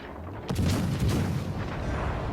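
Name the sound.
torpedo hits exploding in video game World of Warships Legends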